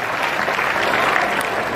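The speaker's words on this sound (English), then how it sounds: "Let's give her a little round of applause." Audience applause at a tiger presentation on Dreamworld's Tiger Island in Australia, a steady, dense wash of clapping from a crowd that holds evenly for the whole stretch without a break.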